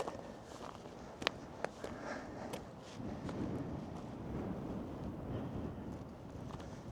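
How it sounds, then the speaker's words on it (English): Steady wind buffets and rumbles across the microphone at Portrush on the coast, with a few faint clicks and taps underneath. "If you're here in real life, it's windy."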